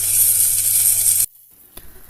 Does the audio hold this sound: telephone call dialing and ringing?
no